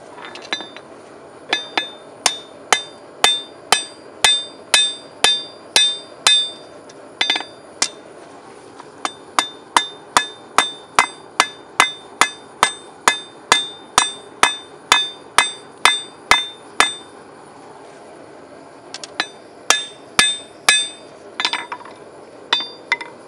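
Steady, rhythmic hammer blows ring out as a steel knife blade is forged on an anvil, dozens of sharp clanging strikes in quick succession with a few brief pauses.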